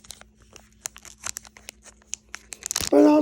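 A trading card pack wrapper being cut open: a run of short crinkly snips and rustles, building to a close, loud tearing crackle at the end.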